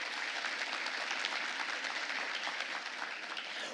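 Conference audience at a public integrity congress in Rio de Janeiro applauding, a dense, steady wash of many hands clapping that holds evenly for a few seconds with no talk over it.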